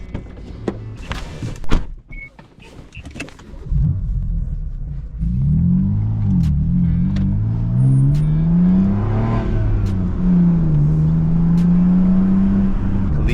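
A BMW M car is heard from inside: a few clunks and knocks, then the engine rumbles up and revs, its deep tone rising and falling steadily as the car drives on.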